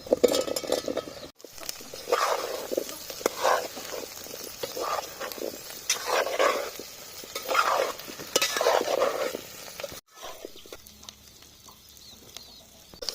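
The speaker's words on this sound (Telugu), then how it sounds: "ఒక ఐదు నిమిషాలు ఇట్లే నూనెలో ఫ్రై చేసుకోవాలి" Ivy gourds fry in oil with onion and ginger, a steady sizzle broken by repeated scraping stirs of a spoon against the pan, close and fairly loud.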